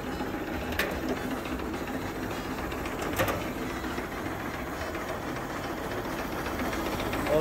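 A 1927 Fiat 503b Torpedo Tourer engine idles steadily and quietly with a smooth mechanical whir, running continuously with no voices.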